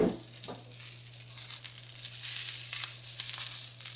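Onions and other food char in a hot pan while cooking taco filling, crackling and sizzling in bursts over a low steady hum, fairly close and moderately quiet.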